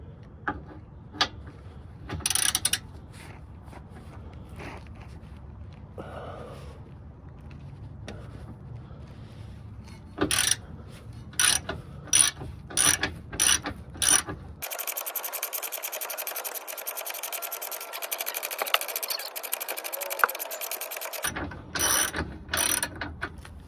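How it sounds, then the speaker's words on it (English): A ratchet wrench working a 19mm bolt on a 2001–2005 Honda Civic lower control arm, rapid clicking bursts with pauses between them and a steady mechanical whir in the middle, close and clear with no talking. "Alright, so we just loosen the bolt right here."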